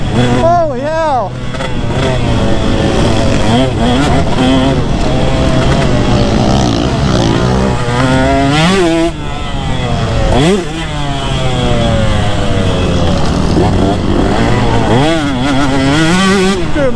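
A two-stroke dirt bike engine revs hard while riding a rutted track, its loud buzzing pitch rising and falling in repeated sweeps as the rider shifts and throttles, close to the microphone.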